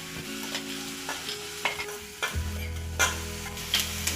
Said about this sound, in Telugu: అల్లం ముక్కలు అయితే చక్కగా రెడ్గా ఫ్రై అయిపోయాయి కదండి